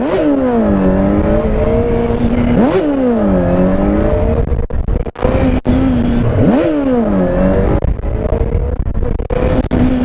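A Yamaha MT-07 motorcycle is revved hard for a wheelie. Its engine pitch swings sharply up and down in repeated throttle blips, loud and close, with no talk.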